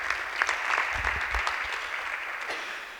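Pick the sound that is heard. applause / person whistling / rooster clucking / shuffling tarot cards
applause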